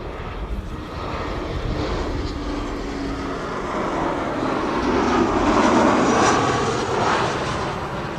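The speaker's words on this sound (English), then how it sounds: "This is KLM flight 1352 and Embraer 190 arriving from Prague" A KLM Embraer 190 jet arriving at Amsterdam Schiphol from Prague produces a steady engine roar that swells gradually louder toward the end as it passes.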